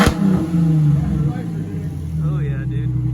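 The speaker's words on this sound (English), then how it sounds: "That's what your car's gonna sound like." A 2010 Ford Mustang V6 fitted with a new exhaust revs with a loud, deep engine note that rises and settles, while people talk over it.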